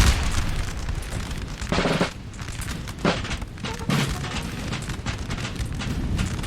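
Napoleon Total War battle at Borodino: a dense roar of massed musket volleys and artillery booms, continuous and loud, with distinct heavier blasts punching through the din every second or so.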